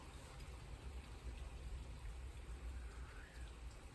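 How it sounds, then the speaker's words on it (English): Steady rain falling outside, heard faintly through a window as a continuous soft patter and hiss with no distinct drops standing out. "it's still raining outside from what I hear through the window."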